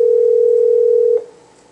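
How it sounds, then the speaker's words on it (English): Steady single-pitch dial tone on a phone line while calling someone back, loud and continuous for just over a second before cutting off abruptly into quiet room hiss. "I'm just going to call Barb back on her phone"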